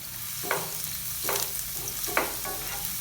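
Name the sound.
garlic sautéing in hot oil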